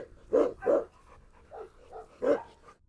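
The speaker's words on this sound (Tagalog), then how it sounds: "Masanay din tayo sa babaeng aso na yan." A female Rottweiler on a farm barks close by in a short burst: two quick deep woofs, a couple of softer grunts, then one more bark, with no talking.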